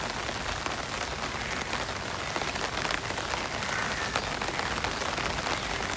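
Steady rain pattering on surfaces during a walk in Phuket, a dense, even hiss of drops close by with no break or voices.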